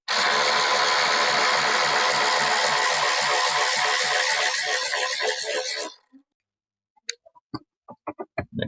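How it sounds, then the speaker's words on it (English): A power tool whirs loudly and steadily for about six seconds during a car oil and filter change, then cuts off, followed by several sharp clicks and taps of parts being handled. "Power tool."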